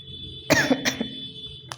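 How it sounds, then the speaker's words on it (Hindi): A person coughs twice in quick succession near the mic during a tarot reading, with a faint third catch of the throat after a pause, under a steady high electronic whine. "बहुत खांसी हो रही।"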